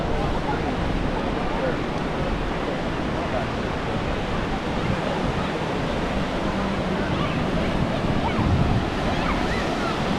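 Rough ocean waves wash onto the shore at Siesta Key Beach, Florida, in a loud, continuous roar of surf, with wind buffeting the microphone throughout.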